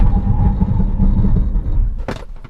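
A Nissan Kicks small SUV braking hard from 100 km/h, with a steady low road and tyre rumble that fades as the car slows, ending in a short sharp burst of noise.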